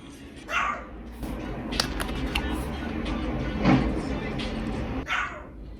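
A dog barks a few times in short bursts, somewhat distant and muffled as if outdoors, with music and background noise running underneath.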